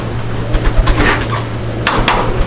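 Pigeons at a breeding farm coo in soft, rounded bursts, several overlapping calls repeating close by against a low steady hum, with no talk.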